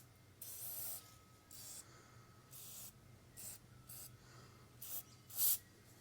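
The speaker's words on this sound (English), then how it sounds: "I'm going to use a generous amount of this suspension cleaner around the dust seal." Suspension cleaner hisses from an aerosol can around the fork dust seal of a Kawasaki KLX 300 dual-sport motorcycle, in several short, close bursts of uneven length with quiet pauses between them and no talking.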